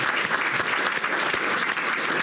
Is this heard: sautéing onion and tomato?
no